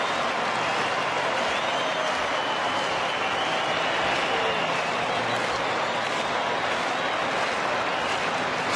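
Large Fremantle crowd at an AFL match against West Coast, applauding and cheering after the win, a steady dense wash of clapping and crowd roar filling the whole stretch, with commentary faintly underneath.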